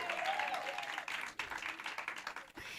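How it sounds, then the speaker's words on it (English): Audience applause at a fashion awards ceremony, a continuous broad wash of clapping from a large crowd, fairly faint and distant throughout with a little talk mixed in. "Can we give them a round of applause?"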